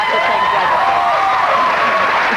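Studio audience applause on a comedy panel talk show, a steady dense wash of clapping and crowd noise filling the whole moment, with voices mixed in.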